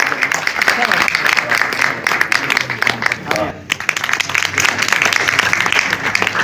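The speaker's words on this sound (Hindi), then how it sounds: "एक बार भाभी जी के लिए जोरदार तालियां" Loud applause welcoming a guest at a Hindu convention gathering, many people clapping in a dense sustained roar with a brief dip midway, while voices speak over the clapping.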